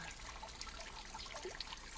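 Soft, steady trickle of flowing water with small bright splashes and drips, continuous and fairly quiet, with no voices.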